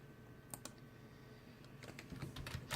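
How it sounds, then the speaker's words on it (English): Keys clatter on a computer keyboard while an IP address is entered into a web browser, with scattered quick taps that grow busier toward the end, close and fairly quiet with no talking. "typing in the IP address"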